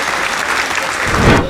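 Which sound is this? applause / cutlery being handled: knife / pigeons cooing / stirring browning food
applause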